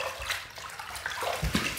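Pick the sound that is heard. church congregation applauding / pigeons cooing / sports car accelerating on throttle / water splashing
water splashing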